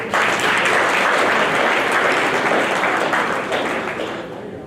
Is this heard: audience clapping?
yes